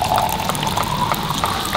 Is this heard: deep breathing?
no